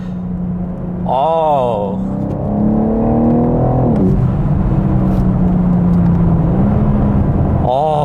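A BMW M4 Competition engine revs at around 3000 to 4000 rpm after a downshift, giving a deep, heavy baritone drone that rises and falls in pitch, loud and close, from inside the cabin.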